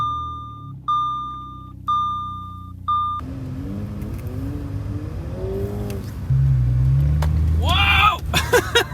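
An Audi S5 pulls in, its low engine rumble and tire noise rising after a few regular electronic beeps, with a voice talking over it near the end.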